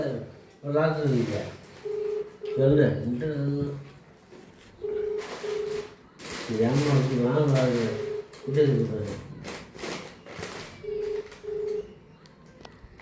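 A phone being dialed to place a call: short, evenly pitched keypad beeps come in small groups between stretches of a person talking nearby.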